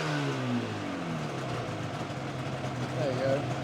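A Yamaha RD500 two-stroke motorcycle idles around 1500 rpm with a steady burbling drone, while someone talks close by.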